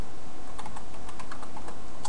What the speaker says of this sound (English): We're going to go ahead and type in that password